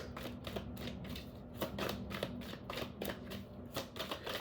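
Tarot cards are drawn and handled from a deck, making soft, quiet papery flicks and snaps in an irregular rhythm, close-up, with no voices.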